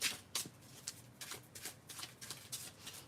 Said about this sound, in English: give me one moment to shuffle cards